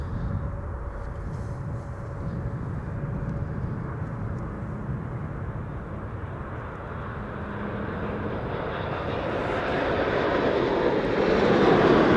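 A large airliner, one of an A340, Boeing 747 or A380, landing and touching down on the runway, heard outdoors as a steady broad engine roar that swells louder toward the end, with no talk.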